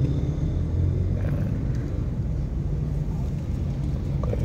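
A car creeps slowly through a narrow alley, its low engine rumble steady and close throughout with no voices over it.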